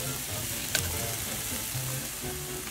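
Sofrito with garlic sizzles steadily in a hot pan, close and continuous, with a brief scrape as it is stirred.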